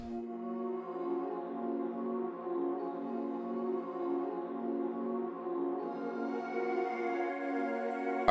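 Slow, sustained half-time pad melody played on a Balkan Ethnic Orchestra instrument in FL Studio for a dark ambient beat, layered smooth tones holding steady throughout at moderate volume.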